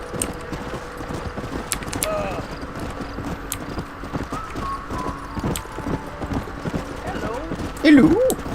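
Horse hooves clip-clop in a steady rhythm throughout in Red Dead Redemption, mixed with scattered clicks and a brief squeal near the end.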